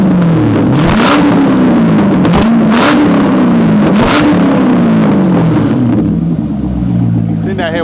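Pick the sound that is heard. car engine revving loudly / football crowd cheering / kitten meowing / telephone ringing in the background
car engine revving loudly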